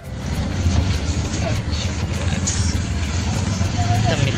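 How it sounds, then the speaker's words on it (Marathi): An auto rickshaw rides along a rough road in Virar, its engine a steady rumble under road and wind noise that runs unbroken and fairly loud throughout. "आता रिक्षा पकडून आणि जाऊया घरी."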